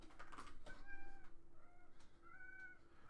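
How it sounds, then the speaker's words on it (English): A cat meows repeatedly while carrying a toy out of a room, giving several drawn-out, plaintive cries close by in a quiet indoor space. "She's carrying the toy out of the room and meowing the whole way."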